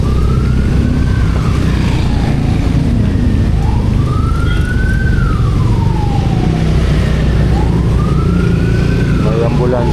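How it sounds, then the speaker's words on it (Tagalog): An ambulance siren passes on the road, a loud wailing tone rising and falling in slow cycles over heavy engine and traffic rumble, heard from a nearby vehicle. "May ambulansya sa likod"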